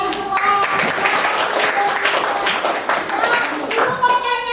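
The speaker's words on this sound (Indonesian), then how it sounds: "Tepuk tangan semua." A primary school class of fifth graders claps together on a teacher's cue, a dense burst of applause with voices chattering over it throughout.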